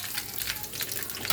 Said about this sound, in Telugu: ముందు పచ్చిమిర్చి వేసుకోవాలి. కొంచెం చిటాపట అంటాయి కాబట్టి